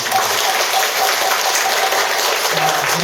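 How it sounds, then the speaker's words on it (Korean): A steady wash of audience applause at the opening ceremony of a Buddhist study program, many hands clapping evenly and continuously throughout without a break. "하여튼 우리가 이렇게 앉을 수 있도록 도와주신 성사 대사님께 큰 박수 부탁드립니다."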